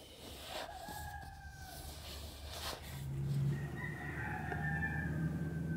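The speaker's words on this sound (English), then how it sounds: "The roosters are roosterin'." Roosters crow several times at an outdoor campsite in southern Baja, the calls drawn out and carrying from moderate distance over a steady low hum.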